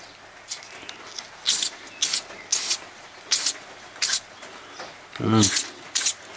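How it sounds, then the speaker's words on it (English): Silicone spray hisses from an aerosol can onto a fuel can under repair, in about eight short bursts at a steady rhythm, close and fairly loud. A brief low voiced sound intrudes near the end. "I'll give this a quick spray."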